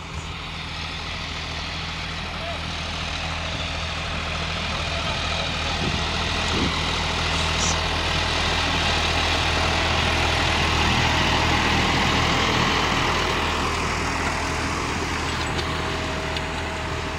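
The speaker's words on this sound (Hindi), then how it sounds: "ट्रैक्टर की परफॉर्मेंस देखो" A John Deere 5405 tractor pulling a harrow through a field runs with a continuous low diesel drone that stays steady and fairly loud throughout, with no voices.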